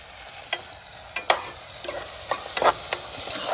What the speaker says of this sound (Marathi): मग खेकडे परतायचे.